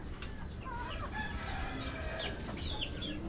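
Large chickens cluck and call close by in a free-range flock, with bright, rising crowing-like calls over a steady outdoor hum.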